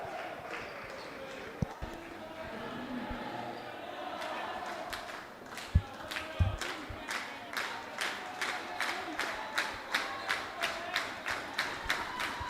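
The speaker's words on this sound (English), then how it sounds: "New Zealand crowd really getting involved in this" At an under-17 indoor cricket match in Dubai between South Africa and New Zealand, the New Zealand supporters break into steady rhythmic clapping that grows louder. A commentator talks over the crowd.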